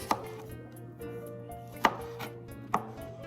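A knife thinly slices garlic cloves on a cutting board, with three sharp, separate cuts spaced irregularly over a quiet kitchen background.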